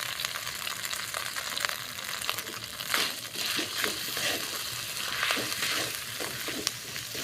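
Turmeric, cumin and coriander paste frying in hot oil in a pan, a steady soft sizzle with occasional stirring scrapes and clinks, moderately quiet with no voices.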